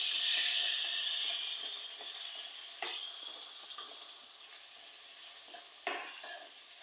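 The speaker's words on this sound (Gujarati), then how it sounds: "ટમેટા અને મરચાં, સરસ રીતે સાંતળવાનું" Tomatoes and chillies sauté in hot oil in a pan, a steady close sizzle fading slightly over time, broken by a few sharp scrapes and clinks of the stirring spoon.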